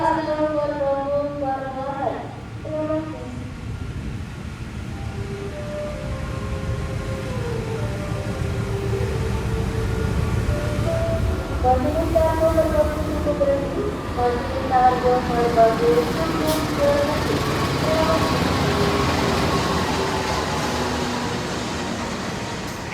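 The Argo Merbabu train rolls into a station, a low rumble and rising wheel-and-rail squeal building over about twenty seconds, with some tonal whines and a brief horn-like tone at the start.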